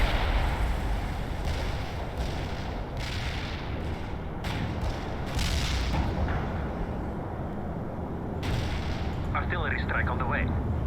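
An artillery strike in World in Conflict: Soviet Assault, a snowy battlefield where heavy booms and rumbling impacts roll out over a continuous battle din, with someone talking over it.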